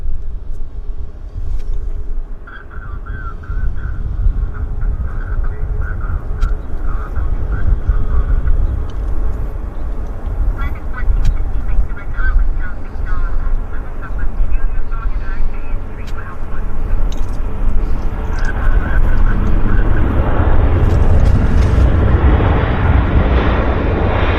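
An airliner lands at Vancouver airport with a loud, sustained roaring rumble that builds toward the end, heard from outside with voices faintly in the background.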